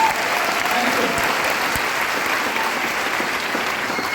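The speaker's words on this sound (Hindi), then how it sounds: "लगा के बैठे होगे तो एक बार अपने लिए जोरदार तालियां हो जाएगी" Loud sustained audience applause at an indoor Vestige business event in Delhi, dense steady clapping from a large crowd lasting throughout, with no pauses.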